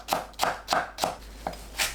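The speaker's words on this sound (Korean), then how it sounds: "정량배추를 채 썰어 주세요." Knife julienning cabbage into thin strips on a cutting board, with quick, crisp, close chops falling in a steady rhythm, six in under two seconds.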